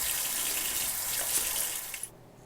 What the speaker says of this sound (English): Wash your hands with soap and warm water and dry them.